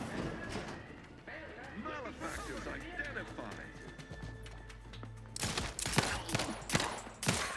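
Gunfire in the video game The Outer Worlds 2, a burst of sharp shots clustered near the end after a stretch of quieter game ambience, loud and close in the mix.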